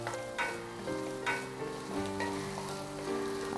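Chopped onion pieces fry in a pan with a quiet, continuous crackling sizzle throughout, with no talking.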